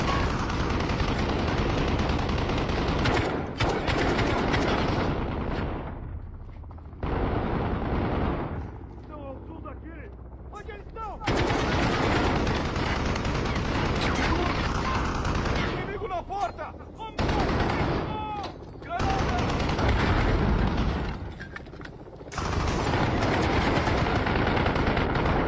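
Loud, dense bursts of rapid sniper and gunfire and explosions from a video game come in long stretches, broken by short quieter gaps with a voice speaking.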